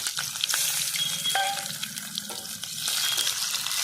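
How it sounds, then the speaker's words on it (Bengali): Chopped onions fry in oil with whole cumin and bay leaf for a papaya chicken curry, a steady watery sizzle with clinks and scraping from a utensil, close and moderately loud. "পেঁয়াজটা ভালো করে আমি লাল করে ভেজে নেব একটু"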